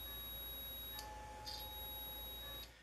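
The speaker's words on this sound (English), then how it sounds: "Using the beeper, it should become visible right away where's the positive and the negative" A continuity tester's beeper sounds while probing the leads of a power supply plug, giving a faint, steady high tone that runs almost unbroken, with a few small clicks before it cuts off near the end.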